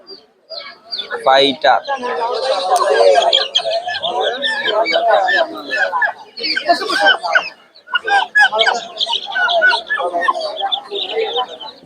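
Fighter chickens cluck and call at a busy poultry market in Bhairab Bazar, their sounds mixed in with loud, close talk from traders and buyers throughout.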